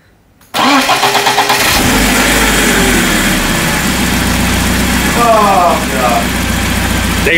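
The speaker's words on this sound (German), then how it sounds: "wir machen jetzt den Motor an und hören uns das an" A BMW E36 car engine cranks and catches abruptly, then settles into a steady, loud idle with a low rumble; brief voices and a chirp appear briefly.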